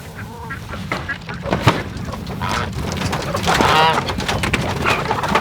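Ducks quack and call on a homestead where hens are also kept. Several overlapping, nasal calls come in close, irregular bursts over a continuous busy farmyard background.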